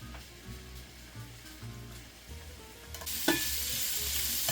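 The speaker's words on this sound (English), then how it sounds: "I'm gonna throw the sausage, the Cajun sausage, into a frying pan." Cajun sausage sizzles in a frying pan and gets stirred, a close crackling fry that jumps louder near the end as fat spits, no voices.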